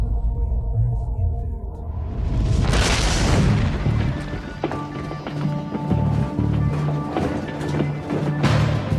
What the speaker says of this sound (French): Pour lui, il doit s'agir d'une explosion colossale, comme celle d'un impact terrestre.